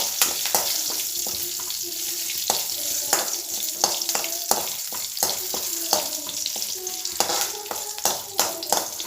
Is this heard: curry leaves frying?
yes